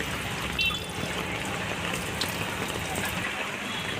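Heavy monsoon rain and floodwater in Ghatkopar, Mumbai make a steady wash of falling and running water, a close, constant hiss with a few brief spikes of sound on top.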